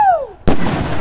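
A firework shell bursts with a sudden loud crack and rushing crackle, preceded by the falling whistle of the rising shell, close and sharp at a backyard birthday fireworks show.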